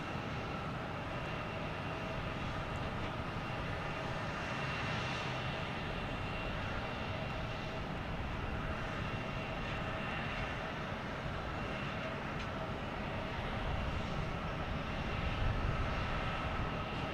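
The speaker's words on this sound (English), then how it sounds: "we got Southwest taking off, heading to St. Louis," A Southwest Boeing 737 MAX 8 takes off at Boston Logan Airport, a steady, distant jet engine roar holding for the whole stretch and swelling slightly near the end, with no voices.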